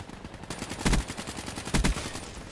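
Gunfire in Black Ops 3 multiplayer on PS4: rapid bursts of automatic rifle shots with two heavier, louder shots standing out near the middle and end, all close and continuous.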